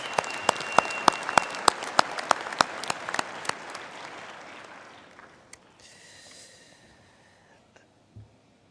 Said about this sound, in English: I think we can give our honorary degree recipient another hand of applause.